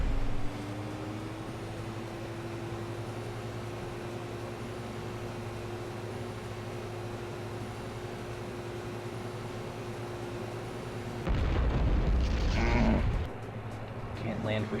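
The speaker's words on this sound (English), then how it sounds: "Yeah, I can do an explosion." A sudden, loud broadband burst of about two seconds, an explosion in the futuristic racing video game Rush 2049, breaks through a steady engine drone that runs for the rest of the clip.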